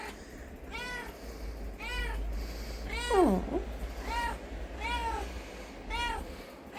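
Three kittens give a series of high, thin meows, about six calls spaced roughly a second apart, close and fairly quiet over a low background rumble.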